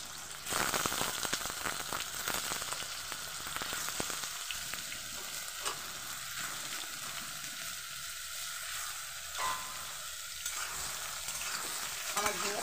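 Ridge gourd fries in hot oil seasoned with black cumin and dried chili, a loud, continuous sizzle close by with stirring scrapes and crackles throughout.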